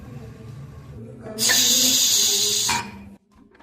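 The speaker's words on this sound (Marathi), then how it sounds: "झाकण लावून आपल्याला कुकरच्या पाच शिट्ट्या करून घ्यायच्या आहे" A pressure cooker with mutton inside lets out a steam whistle, a loud sustained hiss rising abruptly and holding for over a second before cutting off, with quieter kitchen sounds around it.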